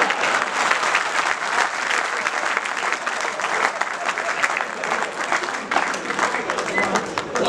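Sustained, dense applause from a comedy show audience, loud and continuous throughout with crowd noise mixed in.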